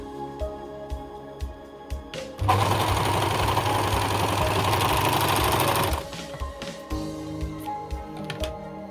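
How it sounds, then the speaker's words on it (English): An overlock sewing machine runs in one steady burst lasting a few seconds while finishing the leg seams of small strapped baby pants for photo props, with quieter handling clicks and rustles before and after. "So I overlock the pants all around here between the legs, like you see."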